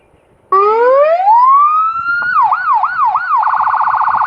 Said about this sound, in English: Let's play with the siren real quick.